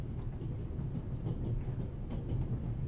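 A luxury passenger train runs on rails in a steady low rumble and rolling hiss, with faint clatter from the carriage, continuous and unbroken for the whole stretch.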